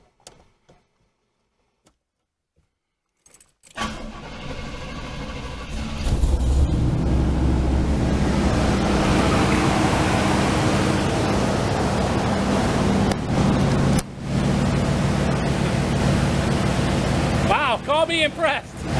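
A vehicle engine cranks and catches after a jump start from an Adoretrip 2500 amp jump starter, then keeps running loud and steady with a rough, rumbling idle, close by and without talk.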